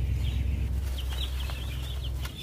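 Broiler chicks cheep and cluck in short, scattered bursts during feeding, fairly close, over a steady low hum, with no talking.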